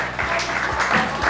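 Audience applause with scattered cheers at a talk on succeeding as a couple, a steady dense clapping wash lasting the whole brief moment.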